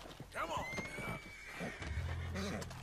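A horse in Red Dead Redemption 2 lets out a long, high whinny over hoof clops, mixed with excited talking throughout.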